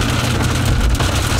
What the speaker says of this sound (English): it's raining now, and it's probably making a really annoying sound on the audio. It's actually pouring really hard right now